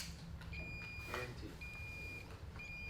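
A high electronic multimeter continuity beep sounds three times in short bursts over a low background hum, with faint clicks in between, while testing an old motorcycle kill switch.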